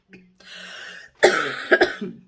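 A person coughs a few times up close, a short hoarse cough followed by a harsher double cough.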